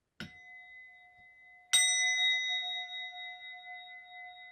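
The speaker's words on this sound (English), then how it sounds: "I'll ring the gong, and let's test the gong to make sure we can all hear the gong." A gong is struck twice as a test: a soft first stroke, then a loud clear strike that rings on with long steady metallic tones, alone in a quiet room.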